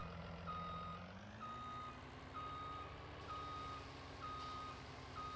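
Truck in Farming Simulator 19 sounding its reversing alarm, a regular series of high beeps roughly once per second over a low steady engine drone, no voices.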